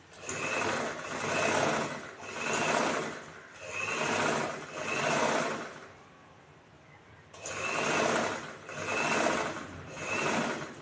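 A sewing machine stitches a folded blouse neckline in bursts: four runs of rapid, whirring stitching, a short pause with quiet handling, then three more runs, all close and fairly quiet.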